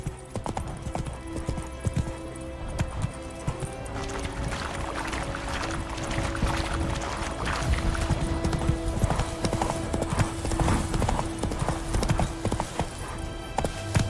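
Roach, the horse in The Witcher 3, clip-clops steadily along with rhythmic hoofbeats, fairly close and continuous over game ambience and music.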